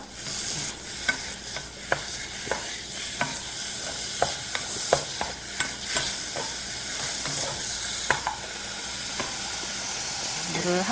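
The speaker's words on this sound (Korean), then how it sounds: "버터가 녹으면 닭고기를 살짝 볶다가" Steady sizzling and frying hiss of chicken in melted butter in a pot, with occasional stirring clicks and scrapes, close and continuous, no talking.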